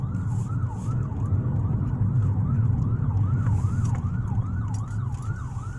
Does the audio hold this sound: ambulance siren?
yes